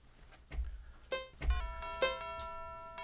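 Doorbell chimes indoors, with two clear ding-dong rings each preceded by a dull thud, the tones ringing on and fading at moderate volume.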